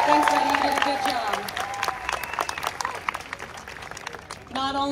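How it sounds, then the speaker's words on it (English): An audience at an animal actors show at Universal Studios Hollywood claps steadily for several seconds, with a voice speaking over the clapping and then continuing after it ends. "How about a big round of applause for our actor, CJ?"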